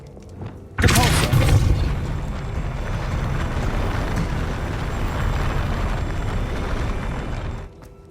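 In Hogwarts Legacy, a Depulso spell goes off with a sudden loud booming blast, then settles into a long rumbling, crackling wash that fades out near the end.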